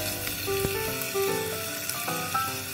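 Mushrooms stir-fried in a pan for Korean bokkeum, a steady close sizzle with a few short clinks and scrapes of stirring.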